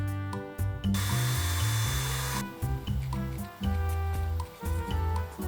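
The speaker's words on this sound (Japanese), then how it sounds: "パイ6ミリのドリルで深さ3ミリくらい掘ります" A power drill with a 6 mm bit whirs close by in short bursts, its pitch rising and dipping as it bites about 3 mm into wood, with brief pauses between runs.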